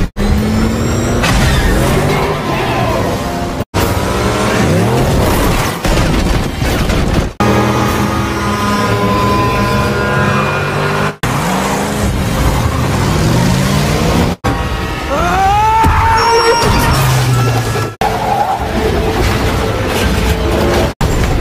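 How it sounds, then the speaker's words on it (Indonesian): Cars roar and rev through a Batman film chase between the Batmobile and the Penguin, with loud engine sweeps, tire noise and crashing impacts, dense and continuous with abrupt cuts. "Batman dan Penguin akhirnya bermain kejar-kejaran mobil"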